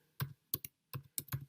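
Someone types a domain name on a computer keyboard: a few crisp, close keystrokes in an uneven rhythm, with no other sound around them.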